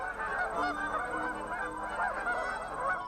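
A flock of geese in New Hampshire honking continuously, overlapping calls in a busy chorus that stays fairly distant and even in loudness.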